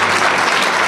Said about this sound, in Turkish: Onunla büyük alkışlarla bekliyoruz.